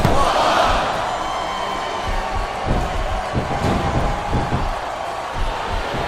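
An arena crowd roars for a wrestler in WWE Smackdown vs Raw 2007, a loud, sustained swell of cheering with a surge at the start and repeated thumps of ring action landing beneath it.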